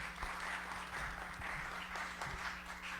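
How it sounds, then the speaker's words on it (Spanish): An audience applauds a panelist at a Spanish-language talk on democracy, poverty and social injustice, with continuous, moderately distant clapping that stays even throughout and has a low hum underneath. "Un aplauso, por favor, Annelies."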